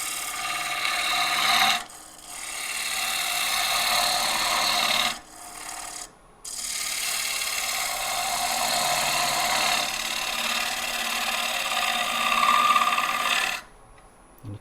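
A lathe tool takes small, light cuts while thinning a wooden rim, a steady broadband rasping scrape that runs continuously with a few brief pauses between passes, close and fairly loud, with no talking.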